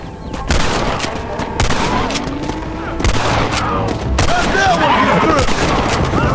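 Gunfight in the Red Dead Redemption video game against rustlers: rapid bursts of gunshots and volleys crack repeatedly over a busy game soundscape, loud and close, with shouted voices mixed in.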